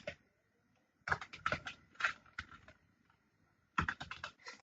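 Quick bursts of keystrokes on a computer keyboard as a search is typed in, clustered in short runs with brief quiet gaps, soft and close with no voices.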